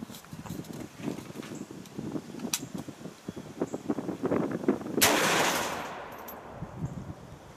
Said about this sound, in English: we're gonna start off shooting the 335 grain hollow points